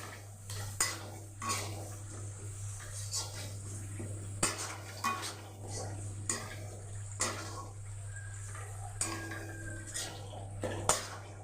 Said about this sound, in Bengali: খুব ভালো করে কষাতে হবে আদা রসুনের পেস্টটা